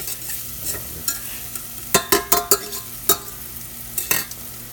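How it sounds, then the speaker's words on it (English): Vegetables sizzle softly in a pan for Cajun grits while a utensil scrapes and knocks against the pan in a quick cluster of stirring strokes, then a few more. "We don't want to overcook the vegetables, but at the same time, we do want them to get a little bit brown and caramelized"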